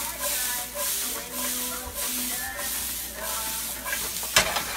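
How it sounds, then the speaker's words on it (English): Minced garlic sizzles in a frying pan with a steady hiss, broken by light stirring and shuffling and a sharp clatter near the end. "And then I'm gonna throw in some minced garlic."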